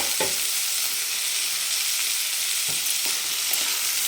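Chopped onion and tomato fry in a pan for an egg chutney, a constant soft sizzle with a handful of brief scraping knocks as a spoon mixes them.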